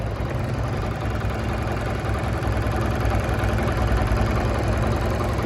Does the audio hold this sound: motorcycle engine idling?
yes